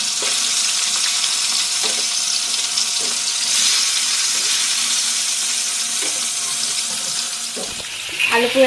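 Fish frying in hot oil crackles and sizzles in a steady hiss close by, with a few faint clinks of utensils and a brief clatter near the end.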